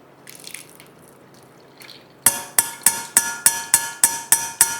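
Ground juice strained for a cooling natural summer drink falls in steady, evenly spaced drips, about nine sharp close splashes in a row after a quieter stretch of faint handling sounds.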